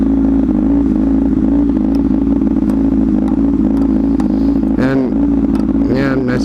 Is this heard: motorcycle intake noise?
yes